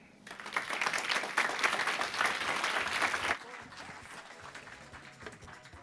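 Applause from the audience at a tourism summit in the U.S. Virgin Islands, a loud burst of many hands clapping for about three seconds that then abruptly drops to quiet room murmur.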